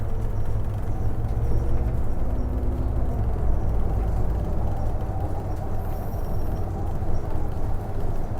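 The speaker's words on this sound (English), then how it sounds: "We got a bus coming in here." A Transperth bus arrives on a suburban road in Forrestfield, a continuous low engine rumble with road noise throughout, steady and fairly loud.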